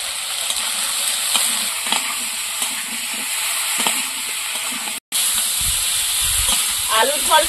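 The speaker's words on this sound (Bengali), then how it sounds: "আলুর ফলটা ভালো করে কষিয়ে নেবো।" Air potato fruit fries in a pan with salt, turmeric and green chilli, a steady close sizzle with stirring scrapes and a brief cut in the middle, a voice heard faintly near the end.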